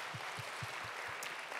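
A congregation claps at a young adults' church worship service, with rhythmic hand claps in a steady beat over a dense wash of applause, heard from a distance in a large room.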